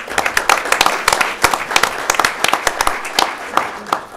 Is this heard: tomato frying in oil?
no